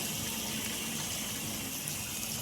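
Water pours from a timed municipal tap in a home kitchen as a steady, even rush. It stays fairly faint and continuous throughout, with no speech.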